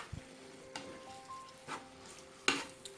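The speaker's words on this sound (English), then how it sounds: "So just mix it well, and we'll let it cook down some more." A cauliflower taco vegetable mixture cooking down in a pan, with a soft continuous sizzle broken by a few scattered scrapes and clinks of a utensil stirring, quiet and close.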